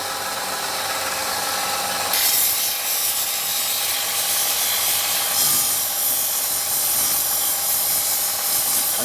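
A steel spike is ground to a point on a grinder, giving a continuous loud, harsh rasping scrape with a brighter, hissier edge after the first couple of seconds, with no talk.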